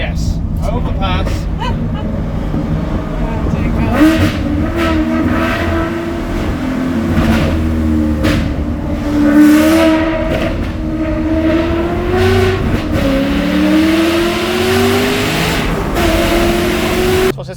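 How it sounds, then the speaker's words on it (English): A Maserati Quattroporte's exhaust booms and growls continuously as the car drives along roads and under an overpass, the loud engine note rising and falling with throttle while someone talks over it. "Crikey, this exhaust."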